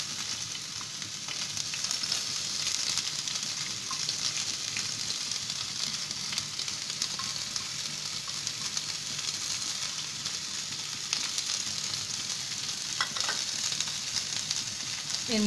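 Two medium onions frying in hot mustard oil in a pan, a steady broad sizzle that holds evenly throughout with occasional faint stirring clicks, no voices.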